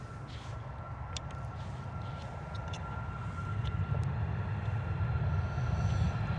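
A Ryanair jet takes off from Stansted with early rotation, its engine roar low and distant at first, then swelling louder and nearer, with a faint steady whine above.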